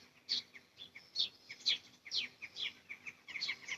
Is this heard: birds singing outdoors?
yes